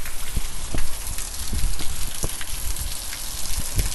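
Heavy rain pours steadily during a storm with local flooding in Arkansas, with louder splashing bursts and drops hitting surfaces close by, and no voices.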